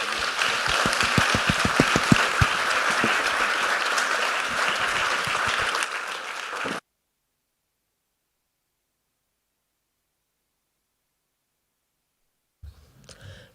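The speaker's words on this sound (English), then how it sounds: "a round of applause for our speakers" Audience applause for a panel of speakers at a culture and ecosystem conference in Aveiro, steady and dense for about seven seconds before cutting to silence, with a brief faint stir near the end.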